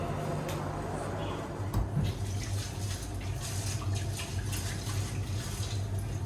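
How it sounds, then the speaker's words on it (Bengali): Rice being washed under running water in a home kitchen, a soft steady trickle with light splashing and a few small knocks, fairly quiet throughout. "চালটা ধুয়ে নিলাম"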